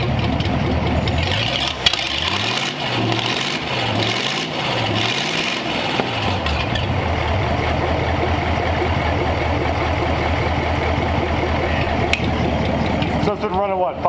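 A flathead engine on a homemade run stand runs loud and close with a steady rough idle. It revs in several rising and falling sweeps early on, then settles back to a continuous drone with talk over it.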